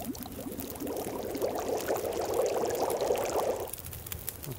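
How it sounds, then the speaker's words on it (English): Water boiling over a fire in The Long Dark survival game, a steady bubbling, pouring-like wash that swells for several seconds and then cuts off, heard alone without talk. "Purify water. That's there, boil water."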